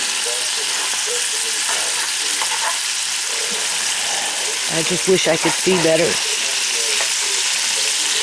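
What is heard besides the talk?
food frying and sizzling in a pan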